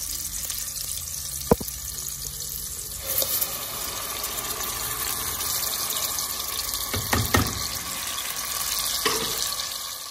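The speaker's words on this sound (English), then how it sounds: "I'll just pour oil and put my onions and fry a few things." Onions frying in oil in a pot on the stove for Nigerian spaghetti, a steady close sizzle and crackle with a few sharp clinks of utensils against the pot.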